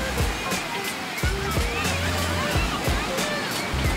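Ocean waves wash and surge onto a beach where surfers are heading into the sea, a continuous near rush of surf with repeated breaking swells.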